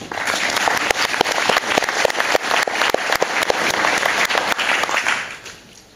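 An audience at a presentation gives steady, lively applause with dense overlapping claps, fading out toward the end.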